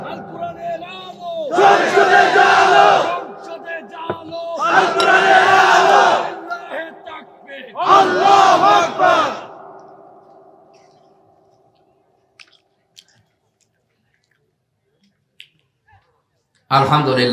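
A large crowd at a religious gathering shouts the takbir 'Allahu Akbar' in three loud, rolling chanted bursts, each answering the last, before the hall falls nearly silent.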